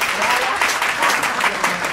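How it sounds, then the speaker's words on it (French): Steady applause from an audience, dense clapping that holds evenly for a couple of seconds. "On applaudit."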